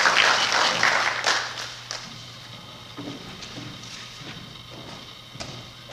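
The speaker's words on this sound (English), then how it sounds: "Let's give him a big round of applause" Audience applause welcoming speakers at a university lecture, a burst of clapping loudest at the start and tapering into scattered claps and room noise over several seconds.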